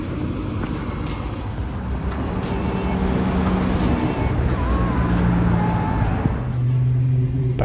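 Inside a moving city bus, a steady low engine rumble and road noise drone on without a break, with faint tonal whines drifting over the hum.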